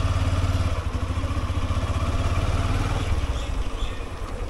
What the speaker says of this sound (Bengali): বাইকটা পার্কিং করে আসি